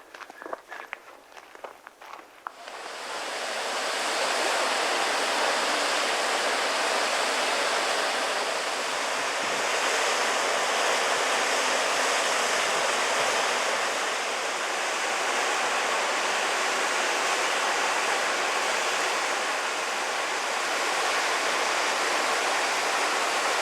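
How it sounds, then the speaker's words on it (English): Steady, broadband rush of a small waterfall above the main falls at Jemez Falls, loud and close, starting abruptly after a few seconds of footsteps and light rustling and continuing unbroken. "This little waterfall is just above the main falls."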